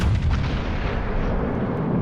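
Naval guns fire in the World of Warships Legends video game, aboard the battleship Conqueror. A deep, rolling boom rumbles loud and heavy for about two seconds, fading slowly with no voices over it.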